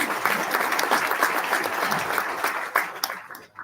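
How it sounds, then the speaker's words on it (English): An audience at an evening event on civility applauds itself, producing continuous crowd clapping for several seconds before it thins out and stops. "Please give yourselves a round of applause."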